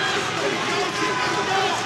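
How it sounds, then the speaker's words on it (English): A boxing crowd cheers and roars inside the venue during the Eithan James vs Jermaine Osbourne Edwards fight, a steady dense wall of voices sustained throughout. "Great noise inside the venue"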